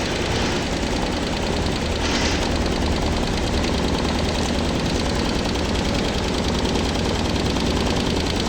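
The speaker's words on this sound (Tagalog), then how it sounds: "Itong tunog ng water pump," Honda Airblade 150 scooter engine running steadily up close, its water pump adding a continuous mechanical whir and rattle over a dense low engine rumble for the whole stretch, with no talk.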